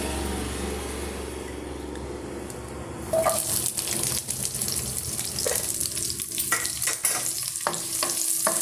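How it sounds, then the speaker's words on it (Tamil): Onion, garlic and green and dried red chillies sautéing in a pan for mint chutney, a low steady hiss that turns louder after a few seconds, with intermittent stirring scrapes. "இப்போ வெங்காயம் வெள்ளை பூண்டு நம்ம சேர்த்தாச்சுங்க"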